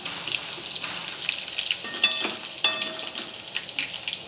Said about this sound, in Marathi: लसण अद्रकची पेस्ट घालायची छानपैकी ब्राऊन होऊ द्यायची